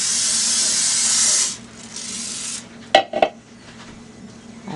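Cooking spray hisses into a pan for a loud, steady burst of about a second and a half, then stops, followed by a couple of sharp clanks of the can and pan while the cooking for Liberian old-fashioned pudding goes on.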